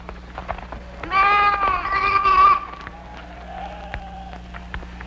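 Sheep bleating in a wavering, drawn-out cry that rises over a low background hum, followed by a fainter bleat, with scattered clicks and knocks around it.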